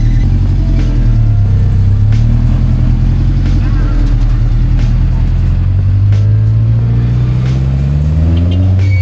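A 2000-model owner type Jeep driving away, its engine rumbling loudly and rising and falling as it pulls off, with voices talking over the motor.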